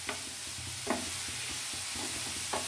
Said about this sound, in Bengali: পটলটা আমি ভালো করে নাড়াচাড়া করে নেব